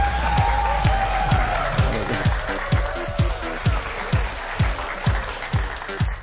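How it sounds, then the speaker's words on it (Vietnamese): Studio audience applause on a Vietnamese dating show: dense clapping over music with a steady rhythmic beat, loud and close, with a voice briefly audible. "xin mời một tràng vỗ tay thật lớn ha"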